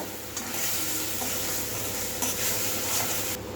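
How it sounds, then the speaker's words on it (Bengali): Mustard paste is stirred into hot spiced oil in a pan, giving a steady close sizzle with scraping and stirring noise throughout and no talking. "মশলা থেকে তেল ছেড়ে গেছে, এরপর দিয়ে দেবো সর্ষে বাটা, ভালোভাবে মিশিয়ে নেব"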